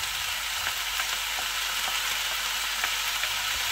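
Aubergines, courgettes, peppers and chillies fry in olive oil in a pan for ratatouille. There is a steady close sizzle, and light scrapes of stirring tick through it at irregular moments.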